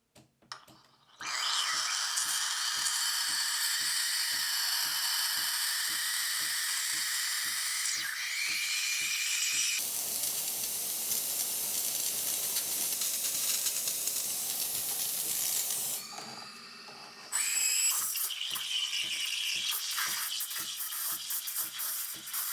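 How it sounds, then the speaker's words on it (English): A DeLonghi Magnifica S espresso machine's steam wand steams milk, a loud steady high hiss that runs for most of the time, briefly drops out, then resumes, over a low rhythmic pump pulse. "if you don't prime the wand prior to steaming the milk, it's going to delay your ability to form a vortex right away and begin stretching the milk."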